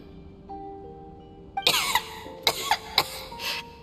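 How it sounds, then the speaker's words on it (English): Tonya, a video game character, breaks into a close, harsh fit of four or five coughs in quick, uneven bursts after a quiet stretch of soft background tone. "How long have you had that cough, Tonya?"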